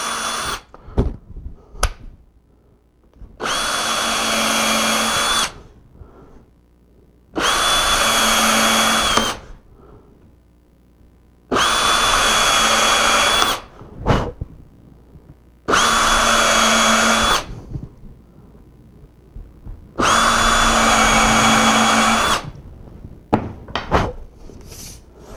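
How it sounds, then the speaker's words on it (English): A cordless drill fitted with a countersink bit whirs in five separate bursts of several seconds each, drilling holes in a crosscut sled with quiet pauses and small knocks between them. "I'm going to drill some holes in this. I've got a countersink bit in my cordless."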